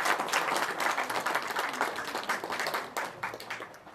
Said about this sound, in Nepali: ताली बजाएर स्वागत अनि धन्यवाद दिनेछौँ